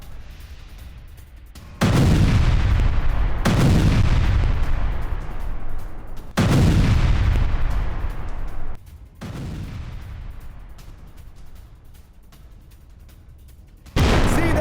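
Heavy artillery fire during a Russian attack on a Ukrainian brigade: four or five loud, booming blasts spaced a few seconds apart, each with a long rumbling decay, with no voices.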